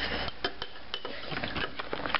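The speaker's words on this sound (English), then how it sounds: "Stir it all up." A spoon clinks and scrapes against a cup or glass while a nasty drink mix is stirred, giving a steady run of small close metallic taps and scrapes with no talk over them.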